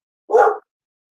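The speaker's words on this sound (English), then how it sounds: "What are you barking at?" A single short dog bark from Chewy, close and fairly loud, lasting about a third of a second and then silence.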